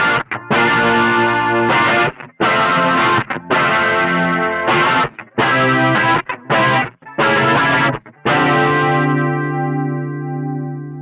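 An electric guitar runs through an Origin Effects MEQ driver into a Walrus Audio Julianna chorus pedal, playing rich, shimmering chords in short separated phrases with brief gaps, then ending on a sustained, slowly fading chord.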